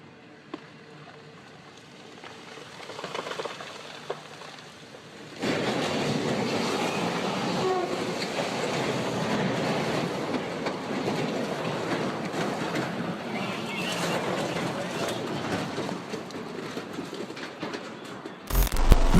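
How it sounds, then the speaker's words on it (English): A train rolls through a town as rocks and debris cascade onto its cars, knocking them over: a quieter opening gives way to loud, sustained rumbling and clattering with dense crashing impacts, ending in a sharp burst. "Train is moving through this area of town"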